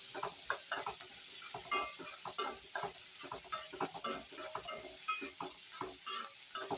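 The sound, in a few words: onions frying and being stirred in a pan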